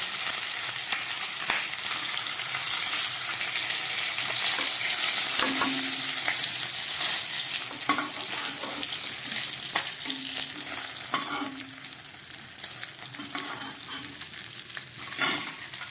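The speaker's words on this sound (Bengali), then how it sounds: "গ্যাসটা কমিয়ে অনেকক্ষণ ধরে মাছের মাথাটাকে আমি ভেজে নিলাম।" A fish head fries in hot oil over a lowered flame, a long steady sizzle close by, broken now and then by stirring clinks and small spatters.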